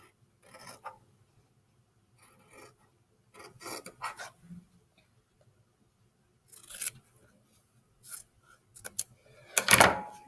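Scissors cutting out a fabric square, several short separate snipping and rubbing bursts with quiet gaps between, close and fairly soft.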